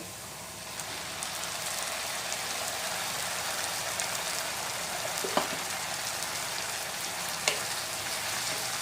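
A poppy seed, mustard and green chili paste frying with golden onions in a pan for Bengali fish curry, a steady close sizzle with a couple of small pops and no talk.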